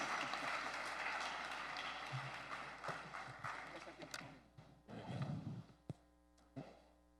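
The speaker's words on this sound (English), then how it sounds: "Big round of applause for our panelists" Audience applause for a programmers' panel at a Bitcoin event, a dense clatter of clapping that fades after a few seconds into scattered claps, with a voice speaking over it and a low mains hum beneath.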